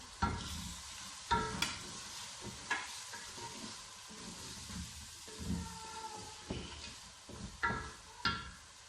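Spices and tomato cooking in a pot, a low steady sizzle under a series of sharp ladle scrapes and knocks at irregular intervals, fairly quiet and close.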